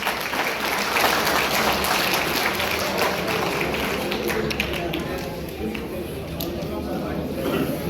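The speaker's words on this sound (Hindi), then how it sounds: "कृपया तालियां बजाएं।" Audience applause at a political rally addressed by Dushyant, loud dense clapping filling the whole stretch, with voices mixed in beneath it.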